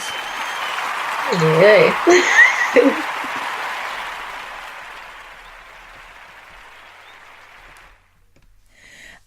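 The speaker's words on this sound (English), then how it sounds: "we're giving them a huge round of applause" Applause and cheering for Lionheart and Jamila Wisdom at a live arts talk event, loud at first with a single voice calling out over the clapping, then tapering off over several seconds before fading to near silence.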